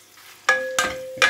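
Lamb curry ingredients are stirred in a hot pan, three bursts of scraping and sizzling close to the microphone, separated by short quieter gaps.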